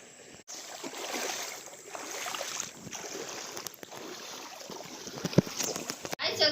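Water from a 900W BLDC pump on a farm in Tenkasi gushes and splashes steadily outdoors, mixed with wind buffeting the microphone and voices in the background.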